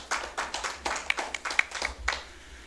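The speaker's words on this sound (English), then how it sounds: "A round of applause for Charles, please." A small group claps at a municipal council meeting for a long-serving employee, a sparse, uneven patter of hands that swells and fades over a couple of seconds, fairly close in a quiet room.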